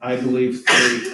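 A single short sneeze bursts out between spoken words in a quiet indoor setting, with a voice talking just before it.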